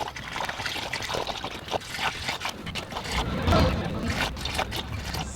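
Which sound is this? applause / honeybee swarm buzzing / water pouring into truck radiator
water pouring into truck radiator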